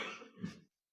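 A single short, muffled cough, faint and brief, followed by a moment of silence.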